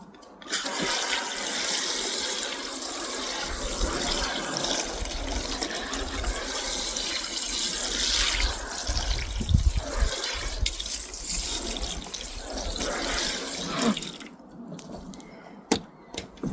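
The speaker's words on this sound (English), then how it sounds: "So I take these out every single week and I hose them down before putting the plants back on" Greenhouse plant trays are hosed down with water, a steady, close hiss and splash of spraying that runs continuously for most of the stretch, with a few clunks near the end.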